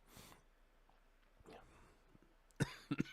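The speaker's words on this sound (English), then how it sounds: "I think my cough's coming back." A few sharp coughs close by near the end, following a quiet stretch with faint rustling and a soft sniff.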